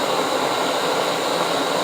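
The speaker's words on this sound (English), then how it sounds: "You'll get a roaring flame." A SOTO ST-310 camping stove burner roars on full flame, a steady, loud, close hiss-roar that keeps going without change.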